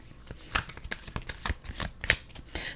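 Tarot cards are shuffled in a quick run of soft riffling slaps and flutters, close and fairly quiet, with no talking over them.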